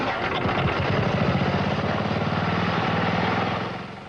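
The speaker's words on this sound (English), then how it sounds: "The exhibit features many inventions like this lawnmower engine designed to run on alternative fuels" A lawnmower engine running mostly on Mountain Dew as fuel runs steadily with a rough, chugging drone at an even pitch, close and loud, easing off slightly at the end.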